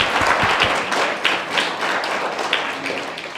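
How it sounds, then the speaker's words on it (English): Audience applause for Nicky Verd, guest at a high tea event, a steady wash of many hands clapping at moderate loudness with a few sharper claps standing out, fading slightly toward the end. "Let's give her a warm round of an applause."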